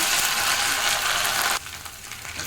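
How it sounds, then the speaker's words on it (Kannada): Chopped onion with ginger-garlic paste fries in a pan for an egg curry, giving a loud, continuous sizzle that drops abruptly to a quieter crackle partway through. "ಶುಂಠಿ ಮತ್ತು ಬೆಳ್ಳುಳ್ಳಿ ಪೇಸ್ಟನ್ನು ಹಾಕ್ತೀನಿ ಇದನ್ನು ಸ್ವಲ್ಪ ಹಸಿ ಹಸಿ ಆಗೋವರೆಗೆ ಸ್ವಲ್ಪ ಫ್ರೈ ಮಾಡ್ಕೊಳ್ಳೋಣ"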